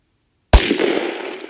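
A single sharp gunshot from a 10mm Glock 29 pistol firing Liberty ammunition at a range, a sudden loud crack after silence followed by a short ringing decay.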